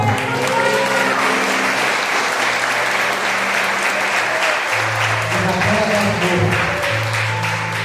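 Church congregation at a Sunday service applauds with sustained, dense clapping while sustained organ or keyboard tones and voices continue underneath throughout.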